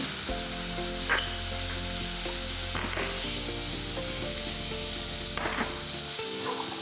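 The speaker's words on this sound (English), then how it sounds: "we're gonna add some butter. Get the butter in there." Butter sizzles steadily in a hot pan, close and continuous, with a low hum beneath and a few scraping or knocking handling sounds, and no speech.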